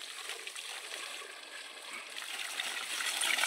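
Water from an old hose pipe pours into drums being filled as drinking water for birds in summer, a steady close splashing rush that builds slightly louder toward the end.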